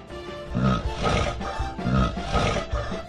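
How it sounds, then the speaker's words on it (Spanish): Cartoon bear roaring, a loud rumbling growl repeated in two or three rising bursts with a brief pause between, close and alone. "Ahora ahí viene el oso"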